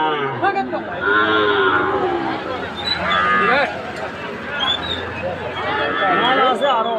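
A Gir calf moos loudly and repeatedly nearby, with people talking in the background throughout.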